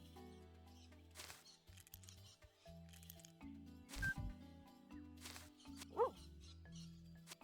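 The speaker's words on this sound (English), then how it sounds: "And the dog was following me everywhere." Dog barking in a minimalist first-person shooter game made in EFPSE, a few short barks and yips scattered over looping game music and effects, fairly quiet.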